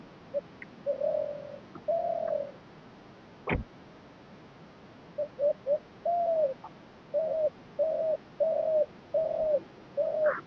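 A laughing dove coos in a series of soft, rhythmic bubbling notes, nearby and clear, in Kausani, Uttarakhand, with one sharp click partway through against a quiet background.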